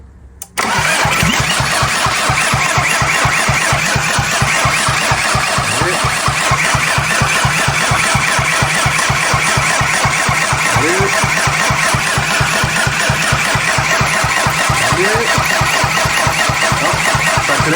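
Seat Leon car engine cranking on the first key turn after a heat exchanger and timing belt were refitted, a loud, close, rapid rhythmic starter churn running steadily from just after the start to the end.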